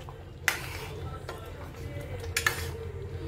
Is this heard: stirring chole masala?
yes